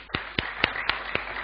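A few sharp, evenly spaced claps ring out at a business seminar in Indonesia, sounding thin and sparse rather than like full crowd applause.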